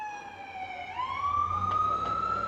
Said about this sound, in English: plus the usual sirens down here in Lower Manhattan